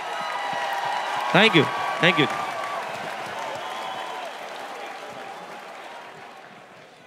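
Applause from the audience at the 2019 BritAsia TV Punjabi Film Awards: a steady wash of clapping fills the hall, and a voice speaks briefly over it before the clapping slowly thins.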